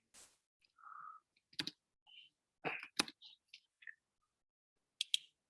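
Sparse, separate clicks and taps of keys being pressed on a computer keyboard, irregular and close, in a quiet room.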